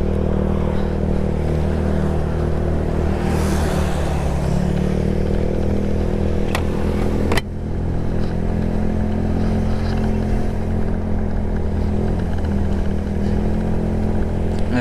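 A Yamaha Mio Sporty scooter engine runs steadily just after a roadside repair, idling close by with a constant low hum and a sharp clack partway through.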